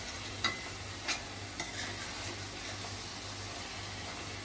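Coconut barfi mixture is stirred in a pan with a few distinct scraping strokes of the spoon over a soft, continuous sizzle, all close up and with no voices.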